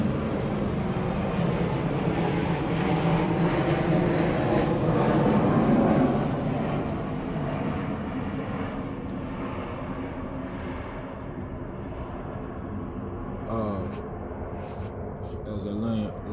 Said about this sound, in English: as a loud plane flies by,